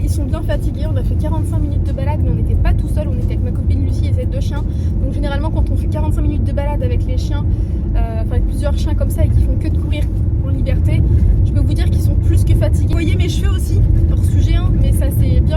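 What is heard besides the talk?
car interior road noise while driving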